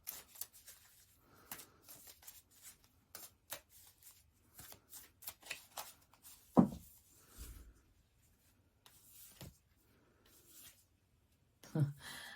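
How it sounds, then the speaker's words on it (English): Tarot cards are shuffled by hand in quick, soft riffling bursts, close and quiet, with a couple of louder thumps as the deck is tapped. "let me shuffle, pick 3 cards"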